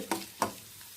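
Coconut pieces sizzle in a pan for payasam, with two sharp stir-scrapes and a low continuous frying hiss, close and fairly quiet.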